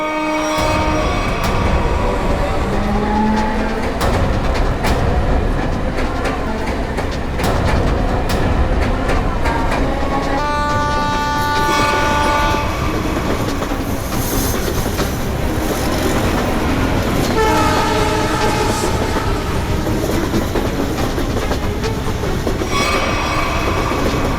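A train runs past with loud, continuous rumbling and rhythmic clattering of wheels on rails, and horn-like tones rise out of the noise at intervals throughout, with no voices.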